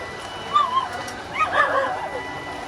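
A puppy gives a few high whimpering yips and whines in two short bursts, close by, over faint background noise, at a shop in Asakusa, Tokyo.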